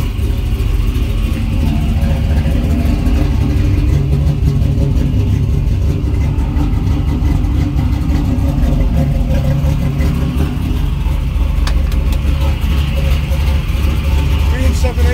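A 1966 Chevrolet Nova SS with Flowmaster exhaust idles loudly with a deep, throaty exhaust rumble that holds steady throughout, and people talk faintly underneath.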